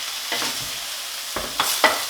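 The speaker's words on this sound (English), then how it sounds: "So now you're gonna saute this for about 5 to 7 minutes" Chicken sautéing in a pan for a coconut chicken curry gives a soft, steady sizzle, broken by a few sharp spatula scrapes and stirring strokes close by.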